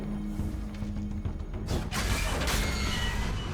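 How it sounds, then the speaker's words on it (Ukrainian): A large fan kicks on inside a mine shaft in Destiny 2's Grasp of Avarice dungeon: a low steady hum gives way to a rising, rushing broadband roar that swells and stays loud to the end. "О, вентилятор включився."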